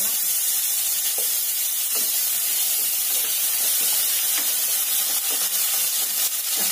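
Tomato hits hot oil with small onions, green chilli and curry leaves for brinjal drumstick sambar, giving a loud, steady hiss and sizzle with occasional pops throughout, close up and with no talk.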